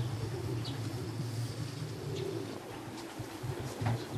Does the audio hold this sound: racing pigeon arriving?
yes